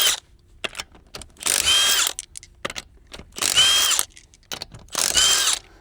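Impact wrench loosens lug nuts on a Can-Am Commander side-by-side wheel, firing in three loud, separate bursts of rattling hammering, each a bit under a second long, with small clicks and handling noises in the gaps between them.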